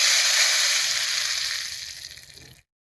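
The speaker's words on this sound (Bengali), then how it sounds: "এবার কড়াইয়ে সাদা তেল দিয়ে পনিরটা ভেজে নেব" Loud, bright sizzling of paneer frying in hot white oil in a kadai, steady at first then fading before cutting to silence.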